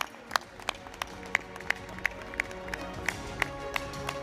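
Sparse, faint clapping at a sports awards ceremony, a handful of distinct hand claps spaced fairly evenly in a quiet room, with low background murmur.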